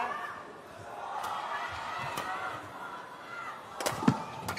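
Arena crowd at a Badminton Asia Championships 2024 doubles match, a steady broad murmur of cheering and noise with a few sharp shuttle-hit or clap transients near the end.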